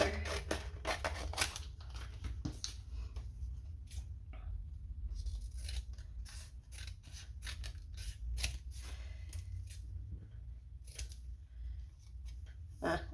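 Scissors cut paper for a burger-themed junk journal folio, a close series of crisp snips and slicing strokes in irregular bursts with brief pauses between them.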